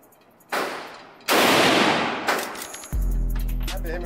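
Gunshots at an indoor shooting range, several loud, close blasts with long echoing tails in quick succession, followed by a low mechanical hum and rattle.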